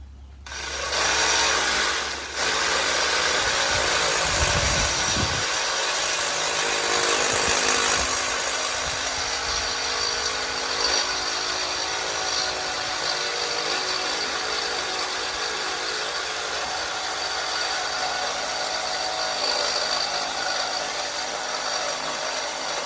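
A power tool cuts half an inch off the end of a piece. The harsh, sustained whine and grind runs steadily for over twenty seconds after a brief start-up burst, close and loud throughout.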